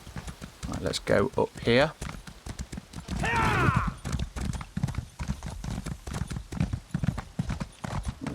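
Horse hooves clip-clop at a steady trot in the video game The Elder Scrolls Online, with a whinny partway through and keyboard taps, while a player talks over it.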